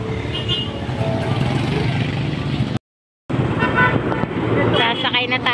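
Steady highway traffic rushes past with passing cars and a brief horn toot, close and loud, while people talk over it; the sound cuts out briefly partway through.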